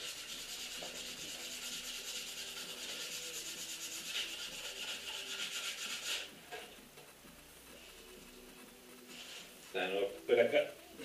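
Scratched plexiglass front screen of a Dakar motorcycle being hand-sanded, a steady rubbing scrape for about six seconds that then fades to lighter intermittent strokes with a few louder knocks near the end.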